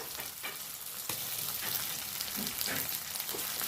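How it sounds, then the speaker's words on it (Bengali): Ginger paste frying with firm, half-ripe tomatoes for a mixed vegetable dal, giving a steady close sizzle and crackle while the mixture is stirred around the pan, with no one talking. "আদা বাটাটা দিয়ে এটাকে নেড়ে চেড়ে নেবো"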